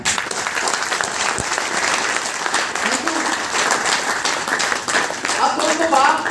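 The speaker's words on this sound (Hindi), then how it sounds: "तो दोस्तों ऐसे व्यक्ति के लिए मैं एक बार आगे तालियां चाहूंगा।" An audience at a business plan presentation bursts into sustained applause, dense clapping from many hands filling the room at full volume for several seconds.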